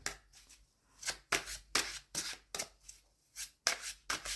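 Tarot cards are shuffled and drawn by hand in close, quiet, crisp rustling bursts, about a dozen short riffling and sliding strokes in an irregular rhythm with no talking.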